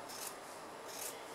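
Scissors snipping through waterproof fabric for a tote bag, two soft rasping cuts, close and quiet with no talking.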